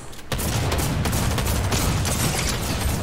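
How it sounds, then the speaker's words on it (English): Dense gunfire from the Huntmaster Saber in Fortnite opens with a sudden burst after a brief lull, then rattles on loudly and continuously with no voices. "I think that's Huntmaster Saber shooting at him."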